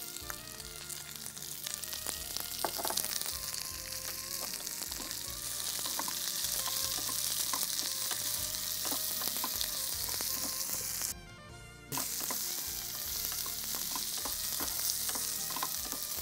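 Onions with a pinch of salt fry in a pan in a steady, busy sizzle, while a spoon stirs and scrapes through them in repeated strokes, the noise cutting out briefly near the end before resuming.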